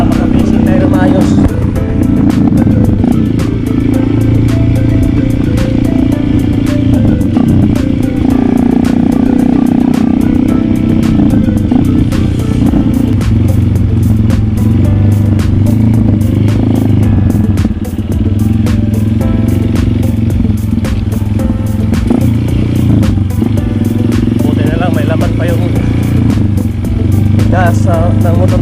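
A motorcycle ridden along a road toward a fishing spot in the Philippines, its engine droning steadily and loud throughout, with a voice talking over it.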